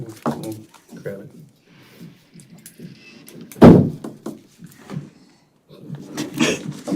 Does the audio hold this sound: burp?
no